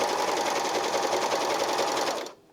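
A Janome 8004D serger overlocker stitching fabric, running in a fast, even mechanical whir close by for about two seconds before stopping abruptly.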